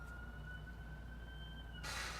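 An ambulance siren passes outside a home on an ambulance route, a steady wailing tone that is distant and faint, heard through the walls before a sudden burst of broadband noise at the end.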